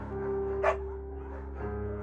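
A beagle in the Firewatch video game gives a single short bark, brief and moderately loud, over a steady background tone that carries on around it.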